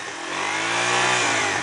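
A dirt motorcycle on a trail revs hard, its engine climbing from a rough idle into a loud, rising buzzing whine that holds near and strong.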